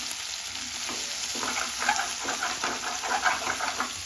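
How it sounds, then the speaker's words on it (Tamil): Sliced onions sautéing with ginger garlic paste in a pan for a mushroom gravy, a steady close sizzle and frying crackle broken by scraping stirs, with no talking. "அந்த வெங்காயத்தையும் இது கூட சேர்த்து ஆட் பண்ணிக்கிறோம்."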